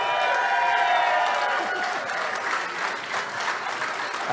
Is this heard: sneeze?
no